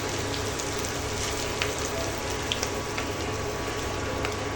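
Moringa leaves and onion sizzle in a pan, a steady, fine crackling hiss with scattered small pops, moderately close and continuous.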